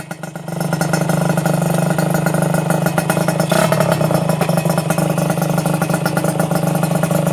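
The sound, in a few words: 125cc motorcycle engine revving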